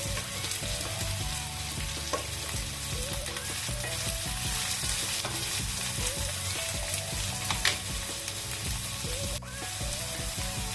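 Onions and green chillies fry in a pan for a drumstick and milk curry, giving a dense, continuous sizzle with scattered pops and scraping stirs, close and steady throughout.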